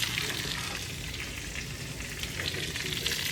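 Keto fried chicken pieces, KFC style, frying steadily in hot oil in a pan, a dense continuous crackling sizzle with no talking.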